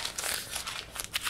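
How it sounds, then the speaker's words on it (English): A piece of paper is crumpled up close by, giving a run of sharp crinkling crackles in quick irregular bursts, alone and fairly quiet. "when I crumple up a piece of paper to get it into the recycling"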